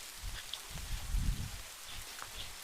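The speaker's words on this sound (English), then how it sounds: "I'm going to take some time to appreciate the rain" Steady light rain falling on a calm, mild day during a walk around Parkwood in Lochwinnoch, a soft continuous patter with a few nearby drips, alone with no voices.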